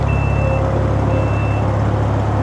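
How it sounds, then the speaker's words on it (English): A 2017 Maserati Levante's power lift gate beeps while closing: two short tones, each about half a second, over the steady low hum of the motor. "to close the trunk, there's a button right there, and again it'll beep at you just to let you know it's closing"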